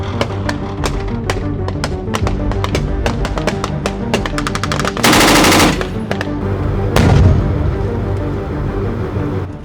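Rapid bursts of machine gun fire during military training, loud and continuous, with sharp repeated reports and a denser volley midway, echoing across open ground.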